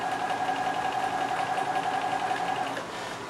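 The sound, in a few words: sewing machine stitching a dart in fabric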